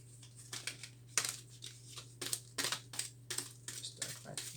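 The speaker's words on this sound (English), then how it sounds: "Still gonna shuffle." Tarot cards are shuffled with quick, irregular riffling and slapping bursts over a low steady hum, fairly close and quiet.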